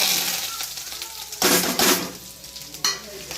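Mustard seeds, cumin, curry leaves and chili hitting hot oil in a pan, with loud bursts of spattering sizzle and popping that swell and fade in waves, with a few clinks of stirring.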